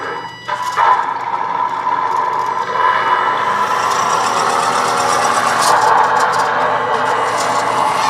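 Engine sound effect from a DAS Micro sound module on an RC truck while it reverses, a steady droning mechanical hum with light knocking that runs unbroken at close range, with no talk.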